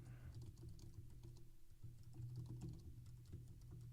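Quiet, rapid typing on a computer keyboard while entering HTML paragraph tags, keys clicking in a steady uneven patter from start to finish.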